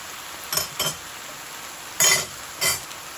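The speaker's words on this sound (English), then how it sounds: "Just keep turning, keep stirring." A utensil scrapes and turns fresh spices in olive oil in a pan, giving four short scraping strokes in two pairs over a faint steady hiss.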